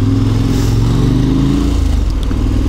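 A KTM motorcycle engine during a ride, a loud, steady low droning rumble with a slight shift in pitch as it runs, no voices over it.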